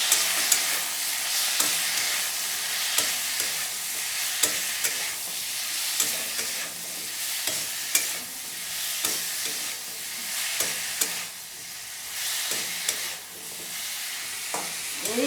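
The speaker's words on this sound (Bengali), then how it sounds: "দিয়ে ভালো করে একটু নাড়িয়ে নেব।" Onion and ground chilli paste frying in a pan for a flat bean chorchori, a loud, steady close sizzle broken by repeated stirring scrapes at a loose rhythm, no voices.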